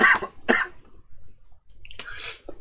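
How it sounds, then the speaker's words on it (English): A person coughs twice in quick succession, close and loud, then after a short pause gives a throat-clearing cough with a raspy breathy tail. "And excuse me, I'm going to cough."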